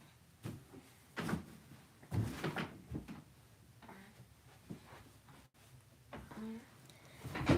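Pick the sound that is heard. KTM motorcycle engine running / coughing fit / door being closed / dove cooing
door being closed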